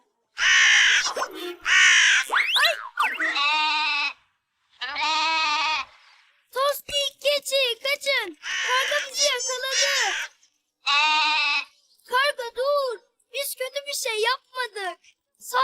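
A cartoon goat bleats repeatedly in loud, wavering cries, close up, with short pauses between calls.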